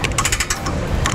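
A hand ratchet with an extension and a 3/4 inch socket turns a bolt while a trailer hitch is installed under a vehicle. It gives rapid, close, loud clicking in short bursts, with a brief pause midway.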